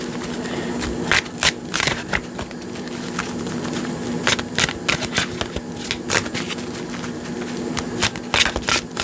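Tarot cards being shuffled by hand, a quiet run of crisp riffling bursts repeating at an uneven rhythm, close by, with no talking.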